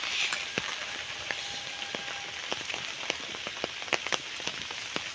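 Rain patters on a hard surface in a village: scattered drips and sharp taps over a soft, steady hiss, fairly quiet.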